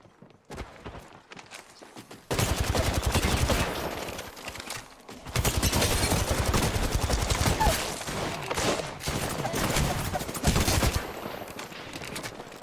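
Sustained bursts of gunfire in an Apex Legends arena match, loud rattling volleys that start abruptly and continue with brief pauses, mixed with other game noise.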